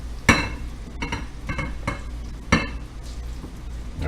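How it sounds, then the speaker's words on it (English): Leftover spaghetti scraped and spooned into a pan, with sharp metallic clinks and clatters of utensil on cookware at irregular intervals over a low background hum. "So I'm going to kind of transfer this spaghetti dish into here."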